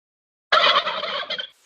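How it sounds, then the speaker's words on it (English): Farm turkeys gobble in a loud, close burst of rapid, warbling calls that lasts about a second, then trails off into silence. "these are turkeys from someone's farm"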